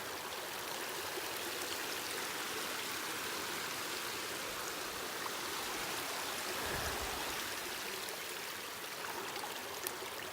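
A mountain stream at Little Shovel Pass on the Skyline Trail in Jasper National Park rushes steadily as a broadband hiss of flowing water, constant and fairly near throughout, with no voices.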